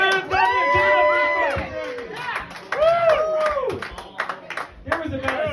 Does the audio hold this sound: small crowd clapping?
yes